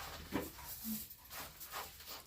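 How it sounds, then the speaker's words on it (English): Dogs outside near a family greenhouse, giving soft whimpers and faint barks at low level, with no one talking over them. "I'm sorry for the noisiness dogs outside"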